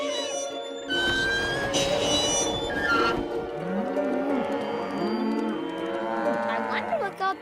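Cartoon cows on a farm moo repeatedly in a spooked, wavering chorus, several long overlapping calls following a burst of noise, with faint background music and effects.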